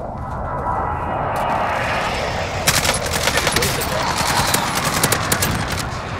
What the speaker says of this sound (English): Let's call the airstrike.